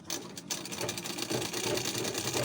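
A sewing machine stitches a blouse with puff-sleeve styling, running steadily close up with a fast, continuous mechanical whirr and rapid needle clatter throughout, no voices.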